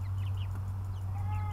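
Soft chicken clucks, faint and brief, over a steady low electrical hum.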